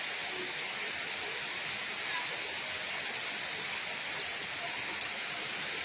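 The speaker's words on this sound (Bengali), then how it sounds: "দারুণ বৃষ্টি হচ্ছে।" Heavy rain falling steadily, a dense even hiss of downpour throughout, with no talking and no distinct breaks.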